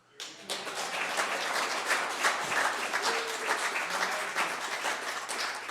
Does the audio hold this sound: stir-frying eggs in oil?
no